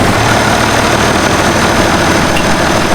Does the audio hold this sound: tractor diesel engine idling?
yes